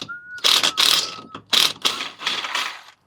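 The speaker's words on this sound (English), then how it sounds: "get the impact gun and finish that off." An impact gun rattles a long bolt loose on a McLaren in bursts of harsh rapid hammering, several short loud bursts separated by brief pauses, close up and with no talking.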